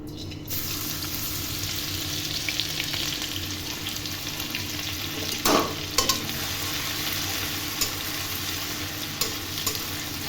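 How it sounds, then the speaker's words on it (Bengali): Chopped ginger and garlic fry in hot oil in a kadai, giving a continuous close sizzle with occasional light taps of a spoon against the pan. "তেল গরম হলে এর মধ্যে আদা রসুন কুচিটা দিয়ে দিচ্ছি"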